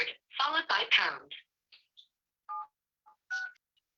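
Telephone keypad tones entering a meeting password on a conference call: a voice speaks first, then several short separate beeps at irregular intervals, faint and clear.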